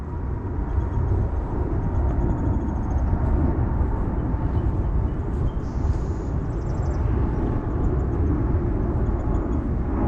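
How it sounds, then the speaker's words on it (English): A jet airliner passes overhead on its approach to San Francisco airport near Holy Cross cemetery, a loud, steady broadband roar that holds for the whole stretch without any speech. "you hear the airplane coming over on the approach to the San Francisco airport"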